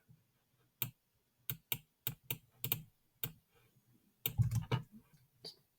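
A computer mouse clicks at a desk during 3D CAD assembly work. About a dozen sharp, quiet, irregular clicks sound alone, with a short cluster of rapid clicks near the end.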